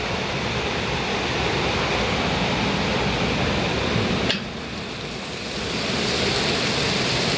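Steady rain pours over a longan orchard in Chiang Rai, a dense, even hiss close around with a brief dip partway through, no voices.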